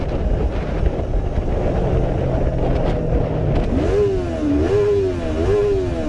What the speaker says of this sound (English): I'm revving my motor because I'm mad at you.